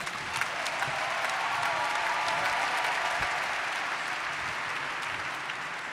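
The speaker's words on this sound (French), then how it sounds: "On les accueille, on les applaudissant s'il vous plaît." A hall full of people applauds at the Hack My Bible 2019 event during a Mission congress, giving sustained, evenly dense clapping at moderate distance with a faint crowd murmur underneath.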